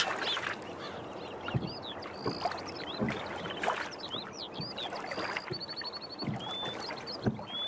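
Rowing boat moving on a flowing river in a cartoon story, with repeated water splashes and paddle strokes at a steady rhythm under scattered high bird calls.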